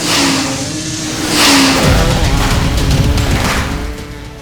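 An engine revs loudly and steadily close by, its pitch rising and then holding in a sustained roar.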